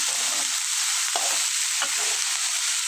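Cauliflower and potato bhaji frying in a pan with only a little oil, giving a loud, steady close-up sizzle with a few soft stirring scrapes and no talking.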